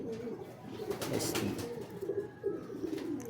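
A racing pigeon back from a derby's first lap coos in repeated low, throaty rolls close by, with a brief spoken word heard faintly.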